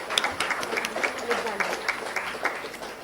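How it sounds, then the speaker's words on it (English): An audience claps for a prize winner at a school closing ceremony, with steady, dense applause throughout and a voice speaking over it. "A great round of applause,"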